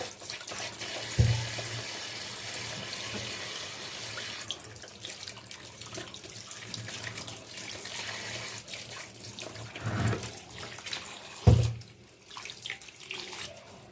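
Tap water runs steadily into a sink while tomatoes are washed one by one, a continuous splashing stream with a few louder knocks and splashes and no talking.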